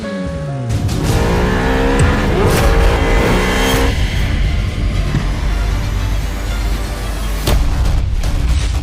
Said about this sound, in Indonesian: Kalian nggak lihat jalan, nabrak mobil sport aku.